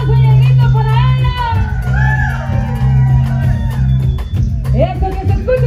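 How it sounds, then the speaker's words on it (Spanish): Party crowd at a live birthday celebration shouting, whooping and cheering loudly and continuously, with layered voices and a band's steady low hum underneath; a few raised yells stand out near the start and end. "A ver que se escucha fuerte el aplauso y el grito para ella."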